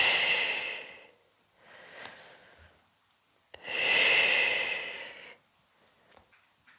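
Deep breaths taken during a floor stretch, a long inhale and exhale, then a second fuller breath in and out, close and audible with quiet pauses between.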